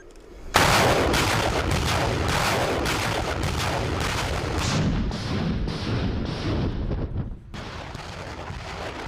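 Russian military artillery firing drills on the Kola Peninsula: a dense, sustained barrage of heavy booming blasts, loud and continuous, briefly dropping off near the end before the firing resumes.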